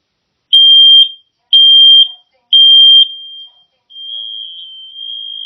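A Nest home smoke detector sounds during a test: three loud, shrill, evenly spaced beeps about a second apart, then a quieter sustained tone that continues to the end.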